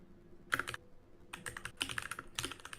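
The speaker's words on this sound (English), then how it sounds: "I think I hear you typing" Someone types on a computer keyboard in irregular bursts of crisp key taps, close and clear, with short pauses between flurries.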